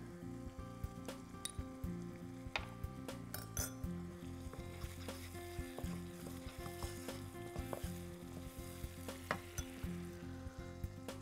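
Meat frying with cumin and red pepper in a Tunisian meat pie recipe, a steady sizzle under repeated stirring with occasional clinks of a utensil against the pan, close and continuous throughout.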